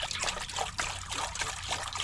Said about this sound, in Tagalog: Lagyan natin yung tubig, pakulo lang tayo.